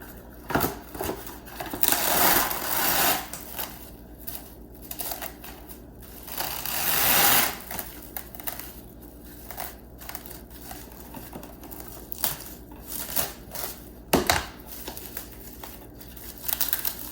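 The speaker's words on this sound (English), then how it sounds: "But just regular cling wrap, that's what I was talking about." Plastic cling wrap pulled and stretched around a dry-brined prime brisket, crinkling and crackling in repeated bursts with sharp tearing snaps, close and fairly loud.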